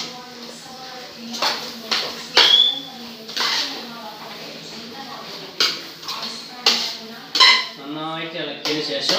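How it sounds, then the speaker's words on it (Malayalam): A spoon scrapes and clinks against a metal pot while avial, a Kerala mixed-vegetable curry, is stirred, with irregular close knocks and scrapes under someone talking throughout. "നന്നായിട്ട് ഇളക്കണം"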